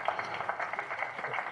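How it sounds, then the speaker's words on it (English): Audience clapping at a seminary diamond jubilee celebration, a brief, fairly soft patter of many hands heard from a distance, with no talk over it. "Let us clap for our head student"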